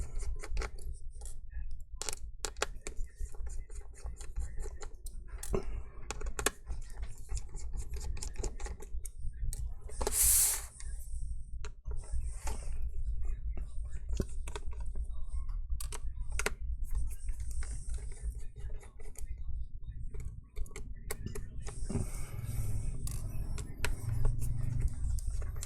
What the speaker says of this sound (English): I'll be using a T8 Torx T8 screwdriver, and go ahead and remove the 3 screws here.